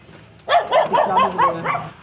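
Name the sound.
dog barking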